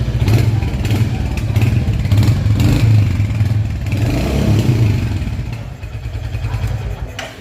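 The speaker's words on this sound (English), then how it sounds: "Now let's start the bike first, and I'll make you hear the sound." A Royal Enfield Hunter 350 Metro motorcycle engine runs close by with a loud, steady low thump and mechanical clatter that eases slightly toward the end.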